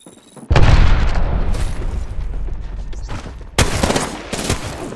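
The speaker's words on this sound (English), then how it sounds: "Throwing Arc Star." An Arc Star grenade in a shooter video game goes off with a sudden loud blast, followed by rumbling gunfire and a second sharp burst of explosive crackle.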